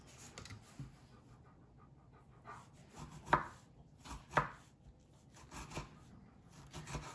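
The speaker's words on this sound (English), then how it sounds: "And I'm gonna cut up some cherry tomatoes." A knife chops cherry tomatoes on a board, producing a few quiet, sparse cuts with two sharper knocks standing out in an otherwise faint kitchen.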